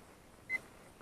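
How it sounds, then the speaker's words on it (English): A timer gives a single short electronic beep midway through, faint against a quiet background. "starting my timer"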